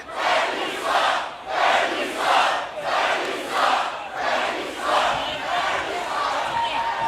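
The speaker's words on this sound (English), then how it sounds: "Crowd here none too pleased with how the system have done business here." A hostile wrestling crowd at a TNA Xplosion event chants in loud, steady rhythmic bursts, about one shout every three-quarters of a second, filling the arena without a break.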